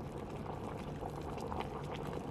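Liquid bubbling and boiling steadily in a game scene from Amnesia: Rebirth, a continuous low gurgling texture at moderate level with no speech.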